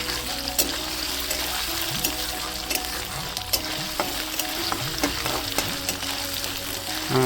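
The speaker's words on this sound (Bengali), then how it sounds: "নারকলটা লাল করে ভাজা হয়ে গেছে" Chopped coconut fries in a pan for a village-style vegetarian dish, giving a loud, continuous sizzle up close with scattered clinks and scrapes of a spatula stirring throughout.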